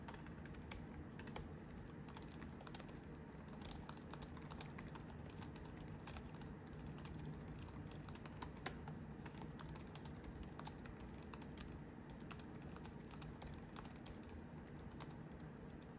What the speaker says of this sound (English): now let's do a good old typing test.